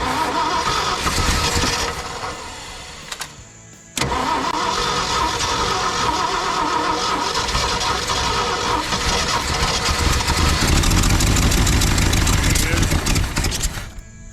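A junkyard wood chipper's engine running on a dose of added fuel, sputtering and cutting out briefly before catching again and running rough and loud up close, with people talking over it.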